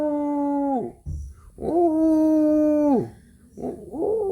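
Long sustained howls rise and hold steady, three drawn-out tones separated by short breaks, close and loud with no other sound. They could come from a dog or from a person imitating one.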